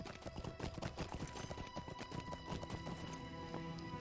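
Horse hooves in the video game LOTRO, a brisk, continuous clip-clop of galloping steps set against dense game sound, close and steady throughout.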